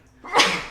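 A single sharp sneeze bursts out close by during a conversation, brief and loud, with quiet room tone before it.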